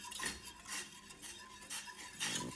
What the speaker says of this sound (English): With a whisk, you're gonna stir that mixture and you're gonna keep stirring it constantly